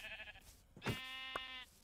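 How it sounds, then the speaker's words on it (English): A single sheep bleats in a survival video game, one wavering, nasal cry lasting about a second at moderate volume, with no talking over it. "Oh, there's a sheep."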